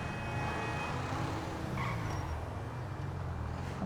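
A car driving through the streets of GTA Online, its steady engine drone holding at a moderate level around an apartment block with a ten-car garage, with no voices over it.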